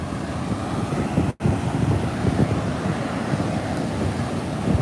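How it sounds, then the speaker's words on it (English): Ocean surf breaking on a beach, heard as a steady, loud, broadband roar of waves with wind buffeting the microphone and no voices. "Oh, there you go. Big wave. Look at that."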